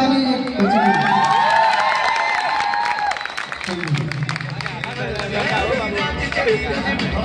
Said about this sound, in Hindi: जोरदार ताली एक बच्चे के लिए।